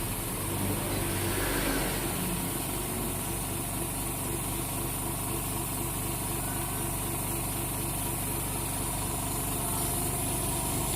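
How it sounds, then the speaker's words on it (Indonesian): LCD bubble remover machine for tablet screens running on 90 PSI air, a dense, steady mechanical hum and hiss that stays level and loud with no talking. "Ini kita bubble sekitar 1 menit kan. Anginnya 90 PSI, sekitar 1 menit ya."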